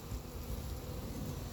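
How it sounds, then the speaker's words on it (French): A honeybee swarm spills out of an opened shoebox during hiving, a steady close buzzing hum of many bees filling the moment with no talk. "Je vais ouvrir la boîte à chaussures. Et là, on va voir pas mal d'abeilles descendre."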